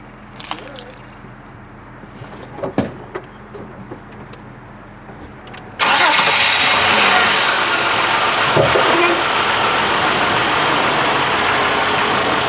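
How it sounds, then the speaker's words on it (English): A vehicle with a shaking problem is started after about six seconds of quiet handling noises and keys, its engine catching and settling into a steady, loud, close idle that runs to the end. "I'm gonna go ahead and start the vehicle."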